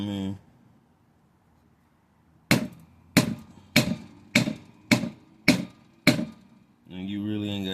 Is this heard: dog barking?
no